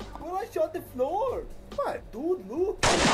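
Gunshots from a video game character firing at the ground, a loud burst landing at the end right after animated speech.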